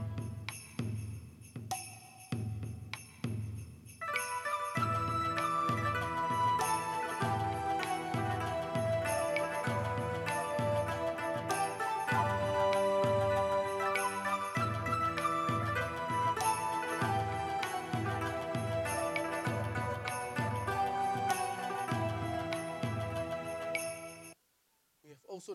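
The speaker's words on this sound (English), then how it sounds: "So next one is some of the ethnic sounds like this." Ethnic instrument sounds from a Korg Krome synthesizer: a sparse plucked intro, then a dense layered patch with a steady rhythmic pulse and bright tinkling tones, playing alone before cutting off abruptly.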